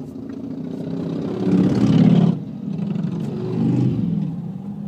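A moped passes on a snowy road in Norway, its small engine swelling louder as it draws near and then fading, heard from close by.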